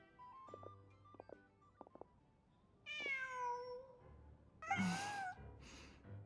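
A cat meows twice in Genshin Impact, a drawn-out rising and falling mew followed by a brighter, louder cry, preceded by faint electronic beeps in a quiet scene.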